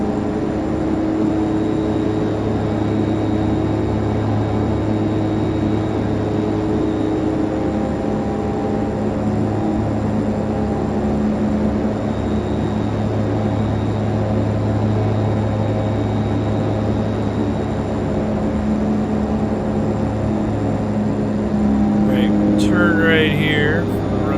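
In the FSX flight simulator, a DHC-6 Twin Otter taxis with a steady, droning turboprop hum that holds level and loud the whole time. Brief chirps come near the end.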